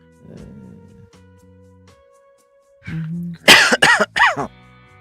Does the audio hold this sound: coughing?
yes